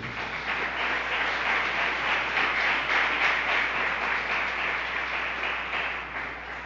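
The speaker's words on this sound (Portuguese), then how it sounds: "Dê um aplauso ao Senhor" Sustained applause from a church congregation, a dense, even roar of many hands clapping together that holds steady and eases off slightly toward the end.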